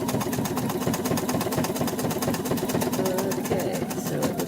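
Sewing machine satin stitching an angel applique, running in a steady fast mechanical patter close by, with a voice talking over it.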